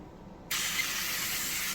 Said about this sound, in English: Spraying the inside some non-stick.